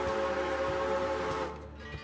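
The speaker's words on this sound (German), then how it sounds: "Pfeife habe ich hier auch angepasst." A steam locomotive whistle from the train-driving game Railroader sounds one loud, sustained, harmonically rich blast that holds steady, then tapers and fades near the end, heard alone without talk.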